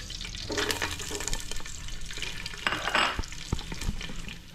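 Onions sizzle in cooking oil in a pan with busy stirring and clinking, close and fairly full, with some watery splashing mixed in and no voices.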